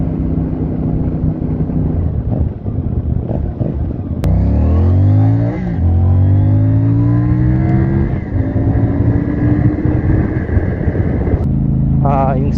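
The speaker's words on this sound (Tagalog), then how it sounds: "Yung stock pipe, yung tunog ng stock pipe," A car engine revs through its stock exhaust pipe, rising and falling in several loud, close pulls over a steady low rumble, with a person talking alongside.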